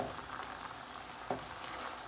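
Potatoes and spinach being stirred in a frying pan over a soft continuous sizzle, with one brief knock of the utensil partway through.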